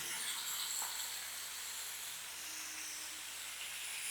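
Spicy potato curry with nigella seeds frying in a pan, a soft continuous sizzle with faint stirring, quiet and steady, no voices.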